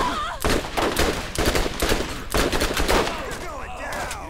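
Rapid pistol fire in the Borderlands video game: loud, closely spaced shots in quick bursts with brief gaps, mixed with ringing game effects and chirping tones.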